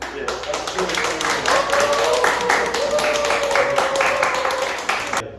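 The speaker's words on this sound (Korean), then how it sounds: "여러분 큰 박수와 함께" An audience at a Christmas lecture in a Korean medicine hospital claps to welcome the lecturer, with brisk, close clapping and talk running over it before it cuts off.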